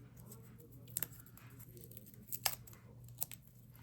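Scissors snip a small piece of paper for a handmade Halloween card, with three quick, crisp cuts at irregular intervals over a quiet, faintly humming room.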